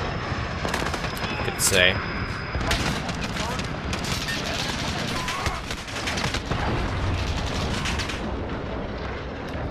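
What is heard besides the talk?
gunfire in the video game Modern Warfare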